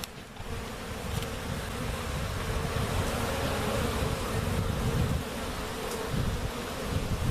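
Honeybees buzzing densely around a beehive after a cutout, a continuous close, loud hum of many insects with no voices.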